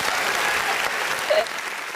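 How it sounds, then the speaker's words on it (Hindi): Audience applause during a Hindi interview, a steady wash of many hands clapping that holds loud and continuous for about two seconds with a slight swell near the end. "एक जोरदार ताली बजानी चाहिए"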